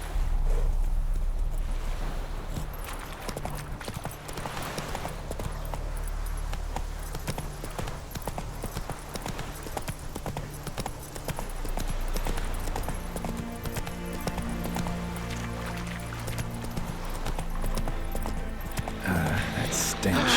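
Steady rhythmic clip-clop of horse hooves galloping in the video game The Witcher 3, continuous and close under game ambience, with voices speaking over it and a neigh briefly.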